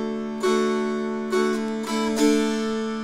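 Mountain dulcimer strings strummed open, four ringing chords with the drone sustaining between strokes, close and clear with no voices.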